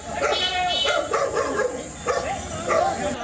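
Several dogs bark and yip repeatedly in a street during a scuffle between people, the barks close and agitated, with voices and commotion underneath.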